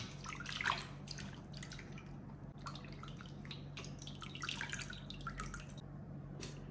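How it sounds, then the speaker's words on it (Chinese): Water drips and splashes at a sink while a fish is rinsed clean of its scales and gills, steady close trickling with scattered louder drops over a low constant hum, no voices. "鱼要给它多洗2遍，因为它腥味特别的重"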